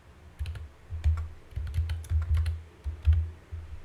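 Close, clicky typing on a computer keyboard comes in quick uneven bursts of keystrokes with short pauses between them.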